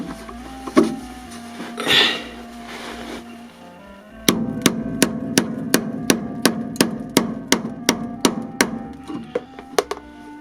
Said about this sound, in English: I might just need to hammer that back on again